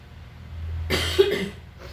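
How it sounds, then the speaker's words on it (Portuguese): A single rough cough bursts out near the microphone, followed by a brief throaty rasp, in an otherwise quiet room. "vocês me desculpem um pouco pela tosse"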